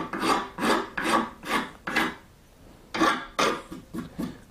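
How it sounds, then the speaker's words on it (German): Rasp and file worked across the nock of a yew wood recurve bow, a series of rhythmic scraping strokes, about ten in all with a short pause midway. "die wird jetzt nochmal weggeraspelt oder gefeilt in diesem Fall besser"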